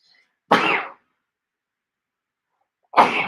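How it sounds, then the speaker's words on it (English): Two sudden, forceful allergy sneezes, the first near the start and the second at the end, separated by silence. "Ooh, I got to sneeze."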